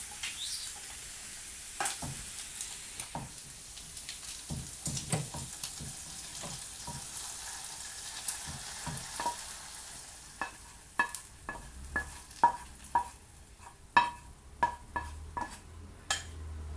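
Celery and onion sauté in a pan for a clam soup, giving a soft, scattered sizzle broken by sharp stirring clicks and scrapes of utensil on pan. The clatter grows busier toward the end, with no talking.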